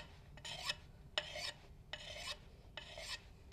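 A sharpening stone is drawn across an axe edge in rough strokes, about five distinct close rasps in an uneven rhythm, with no one talking.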